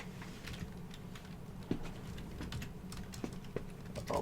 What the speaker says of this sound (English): Oh my god, I can't type like this.